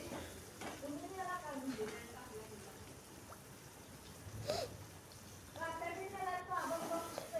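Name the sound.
stir-frying tomatoes in a pan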